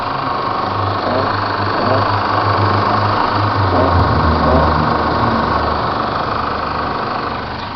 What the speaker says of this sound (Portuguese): Eu vou abrir o capuz e botar a câmera no capuz para mostrar o barulho.